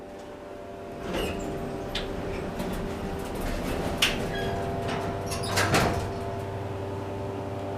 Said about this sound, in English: Now we're going to let the doors close and get a cab view.